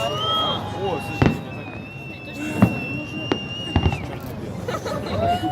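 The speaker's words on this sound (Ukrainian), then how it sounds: "Видишь, салют." A Navy Day fireworks salute in Stavropol sends sharp booming bursts, about four spaced apart, over outdoor crowd chatter and nearby talking.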